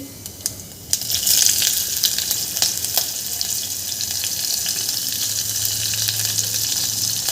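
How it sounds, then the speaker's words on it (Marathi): Cumin seeds and green chillies hit hot oil for a tempering, bursting into a loud, bright sizzle after a short quieter start, then settling into a steady crackling hiss with scattered pops. "इथे आपलं तेल गरम झालेलं आहे इथे आपल्याला जिरं घालून घ्यायचं आहे मिरच्या घालून घ्यायच्या आहे"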